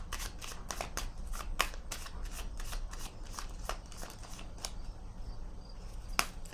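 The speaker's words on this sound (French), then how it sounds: "Je vais déposer une autre carte." Playing cards are handled and set down in a quiet room during a card reading, giving a string of sharp, light snaps and slaps spread irregularly over several seconds, with no talking.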